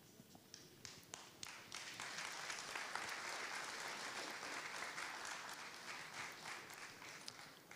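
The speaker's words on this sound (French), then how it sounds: "On les raccompagne à leur place avec des applaudissements" Sustained applause from an audience at the Bénin 2024 lottery draw ceremony, steady clapping that fills the whole stretch with a few sharper claps standing out and a little voice underneath.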